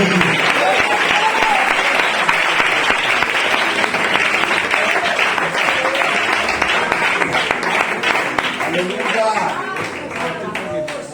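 A church congregation applauds in sustained, dense clapping that stays loud throughout, with a few voices calling out beneath the applause.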